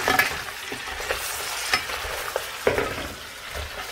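Garlic fries in oil and butter for a South Indian crab curry, a close, steady sizzle broken by several sharp stirring scrapes and spatters.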